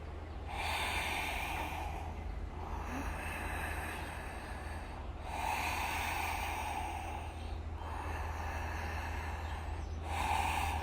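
Slow, steady breathing during a yoga squat, several long inhale-exhale rounds spaced a few seconds apart, soft and close, with a faint steady hum underneath.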